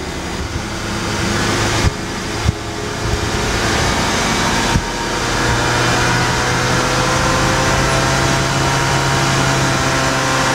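A Honda CR-V third-generation engine runs with a steady mechanical drone and a deepening, sustained rev, close and loud, with a couple of brief clicks early on and no voices.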